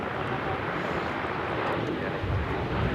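An Alaska Airlines Boeing 737-900ER departs LAX for Guadalajara, its jet engines producing a continuous, even roar with some wind-like rush layered through it.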